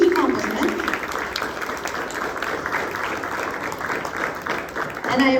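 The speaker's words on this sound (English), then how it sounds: "Give yourselves a round of applause." An audience at a high school senior panel applauds in a steady, dense wash of clapping that holds evenly throughout, with a voice briefly audible at the start and again at the end.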